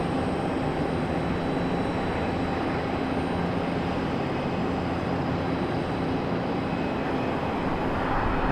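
A FedEx ATR turboprop passing at Raleigh-Durham International Airport, a constant, fairly loud broadband roar with a steady drone that holds evenly throughout, no voices heard.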